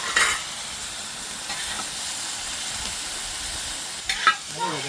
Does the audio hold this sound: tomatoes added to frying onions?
yes